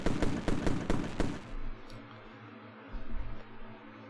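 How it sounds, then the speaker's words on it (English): Fireworks sound effect during a football draft-pick card break, a rapid run of loud crackling bangs for about a second and a half, then a low rumbling tail with a second brief burst. "Get those fireworks going."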